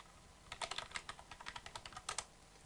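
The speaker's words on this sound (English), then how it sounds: "type in my password here" Password typed on a computer keyboard, a run of about a dozen quick, light key clicks in a fast uneven rhythm, close but fairly quiet.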